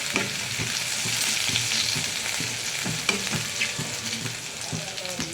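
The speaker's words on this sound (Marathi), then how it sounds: "थोडीशी अगदी तेलामध्ये फ्राय करा" Ginger garlic paste fries in hot oil with a bright, constant sizzling hiss and repeated scraping stir strokes close up, and no talking over it.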